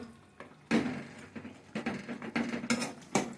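Cooking food being stirred and tossed in a pan, with a run of irregular metallic scrapes and clinks from a utensil against the pan, close and fairly quiet, with no talking.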